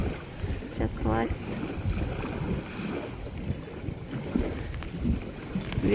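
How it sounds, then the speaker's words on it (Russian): Wind gusting from all sides at an outdoor campsite near Borovoe makes a steady rumbling buffet against the microphone, with a brief voice partway through. "Ветер причем со всех сторон идет."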